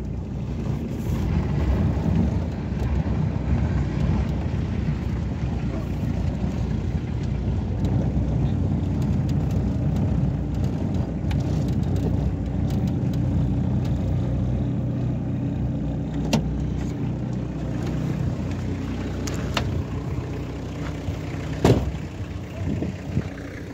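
A car engine runs steadily while driving, a continuous low rumble with wind buffeting throughout and a couple of brief knocks near the end, no talk.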